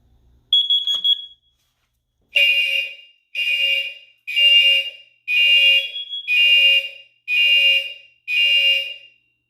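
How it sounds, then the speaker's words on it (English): Carbon monoxide detector sounding during a fire alarm system test: a short high chirp, then a repeating pattern of loud, piercing electronic beeps in evenly spaced bursts, close and alone. "let's test the carbon monoxide detector since we're here"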